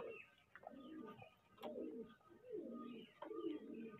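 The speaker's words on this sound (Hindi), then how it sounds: "ये सफेद कबूतर है पिया।" White fighter pigeons coo in soft, repeated rolling bursts, close by and steady, with no talk over them.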